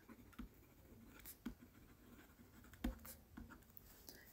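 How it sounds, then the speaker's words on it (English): A pen writes on paper while an A Level accounting exam question is worked through, a soft, faint, continuous scratching with occasional small taps, quiet and close. "Let's write it down."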